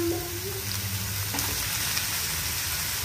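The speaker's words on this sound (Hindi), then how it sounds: "गाजर को सौते करेंगे।" Carrots sautéing in ghee in a pan for gajar ka halwa, a steady close sizzle and hiss with a faint low hum beneath, continuous throughout and without speech.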